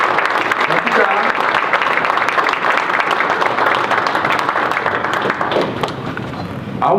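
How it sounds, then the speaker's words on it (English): A university ceremony audience claps steadily and loudly in a thick, even burst of applause that dips slightly near the end, with some murmured voices beneath it. "Let's give them a round of applause."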